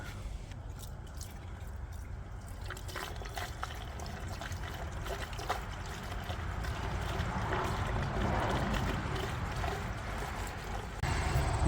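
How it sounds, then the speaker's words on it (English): Fresh gasoline poured into the fuel tank of a Mazda RX7, a continuous gurgling splashing stream that grows slightly louder as it fills. "Okay, so now it's time to put in some fresh gas."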